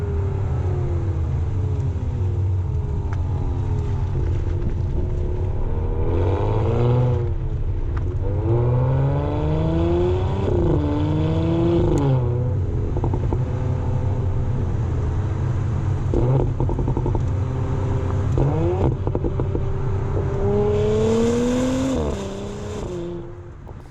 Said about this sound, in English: when you're driving along, you really notice a lot more crackles and pops and a lot more vibrancy from the exhaust